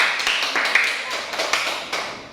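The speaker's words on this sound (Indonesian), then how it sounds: "Tepuk tangan untuk kita semua" A school class applauding together in a classroom, a brief, fairly loud patter of many hands clapping that fades gradually over a couple of seconds.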